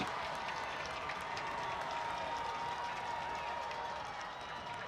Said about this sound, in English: Crowd getting loud here in Valley View, in Peckville. They're on their feet.